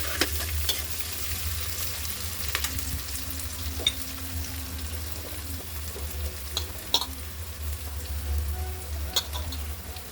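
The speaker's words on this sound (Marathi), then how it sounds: "आता मी याच्यामध्ये बटाटे टाकून घेते. बटाटे 2 मिनिटं छान परतून घेते." Potatoes and onion frying and being stirred in a pan, a steady low sizzle running throughout with occasional scraping clicks of the spoon, close and moderately loud, no talking.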